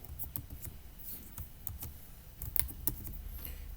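Typing on a computer keyboard while entering an Excel formula, a quiet, uneven run of close key clicks with a few firmer taps, no voices.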